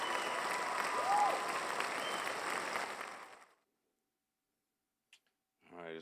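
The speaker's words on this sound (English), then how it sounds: "Claps for that one." Audience applause rises to a full burst of clapping for about three seconds, then fades abruptly into silence before a voice begins speaking at the end.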